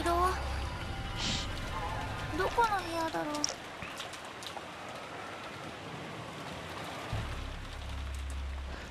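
Heavy rain from the visual novel Umineko When They Cry, a steady dense hiss of hard-falling rain with low rumbling wind underneath, joined early by a few short musical or tonal effects.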